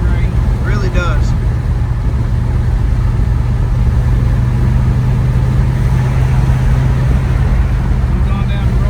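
A 1967 Chevrolet Chevelle SS 396 V8 cruises down a road with a loud, steady low engine drone and road noise throughout, and a brief voice near the start.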